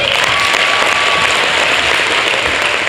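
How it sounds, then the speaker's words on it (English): Loud, sustained applause from a crowd at a middle school African-American symposium, dense steady clapping filling the room without a break. "Stand up and give her a round of applause"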